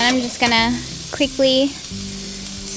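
Smash burgers of 80-20 ground beef sizzle on a hot cast iron griddle with no oil, a steady frying hiss running beneath a person's talk.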